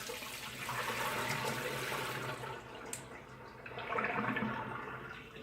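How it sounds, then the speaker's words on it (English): Cold tap water rushes steadily over soaked potatoes being strained and rinsed in a sink, a continuous broadband spray that briefly dips before picking up again, fairly close. "But I'm going to strain them and rinse them off with cold water."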